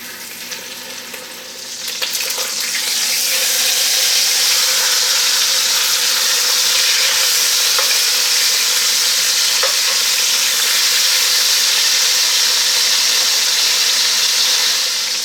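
Chicken thighs fry in about three tablespoons of hot canola oil, the sizzle rising sharply a couple of seconds in and then holding as a loud, dense, steady crackle close to the pan.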